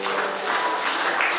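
Congregation at an Orthodox church service applauding, a steady, dense wash of clapping from many hands that stays fairly loud and even throughout, with no voices standing out.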